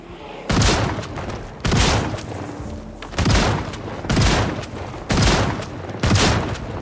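Shotgun gunfire in the zombie survival game Project Zomboid: six loud, heavy booming blasts spaced roughly a second apart, each with a sharp onset and a short rumbling tail.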